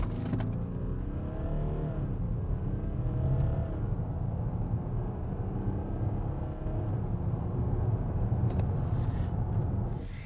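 A 2020 Audi Q7 seven-seat luxury SUV accelerating hard from 0 to 100 km/h, its engine note rising steadily through the gears with audible shifts, heard from inside the cabin as a loud, continuous drone.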